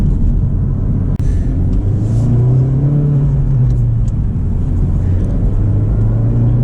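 A 2024 Honda Civic Type R cruising in comfort mode, its engine and road noise forming a steady, loud, low rumble with a gently rising and falling tone throughout, and no talking.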